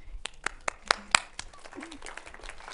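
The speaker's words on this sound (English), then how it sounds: "Let's clap for, for Kathleen." A small audience at a neuroscience talk gives a brief smattering of scattered claps, a handful of distinct sharp hits close by, with voices talking over and after them.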